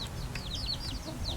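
Young backyard chickens cluck and peep in short, high chirps that repeat quickly and faintly, close by on a small farm with no talking.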